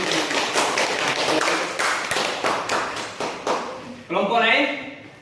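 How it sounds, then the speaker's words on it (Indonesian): A classroom group claps in short uneven bursts of overlapping hand taps, fairly close, ending in a louder, denser round of applause. "Baru kita kasih tepuk tangan dulu."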